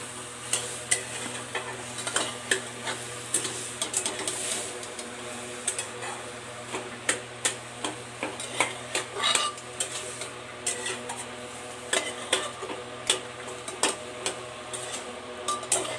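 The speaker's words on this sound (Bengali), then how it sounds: "তো এখন এটা একটু কষাবো, তো ওই জন্যই ছেঁকে ছেঁকে দিয়ে দিচ্ছি।" Cooked food is stirred and sautéed (kosha) in a pan, a spoon scraping and knocking against the metal in quick repeated strokes over a low sizzle. No one speaks.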